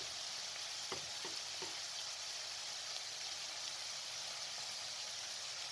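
Ground spices (salt, coriander, red chili powder, black pepper and crushed chili) roasting in a hot pan for a spicy vermicelli snack: a steady, even sizzle with a few soft stirring scrapes near the start.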